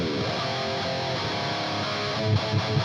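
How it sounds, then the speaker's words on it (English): An electric guitar plays through an amp set to a dry crunch distortion, giving a dense, continuous overdriven tone with sustained chords and a few heavier low notes near the end, with no talking. "So what you heard were the snapshot, which is the dry crunch, which I will demonstrate for you now."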